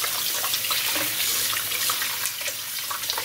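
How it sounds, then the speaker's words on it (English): Fish for callaloo being rinsed under a running kitchen tap gives a steady, close hiss of flowing water splashing into a sink, with faint irregular splatters and no talk. "I am going to rinse this fish."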